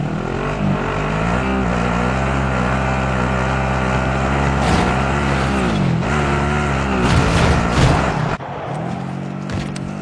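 A car engine drones steadily while driving in the Call of Duty Warzone battle royale game, holding a constant hum with small surges in pitch, a few sharp bumps, and a drop to a quieter rumble near the end; no voices are heard.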